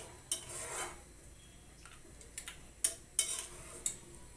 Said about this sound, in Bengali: এবার আমি এটাকে নেড়ে চেড়ে দিচ্ছি।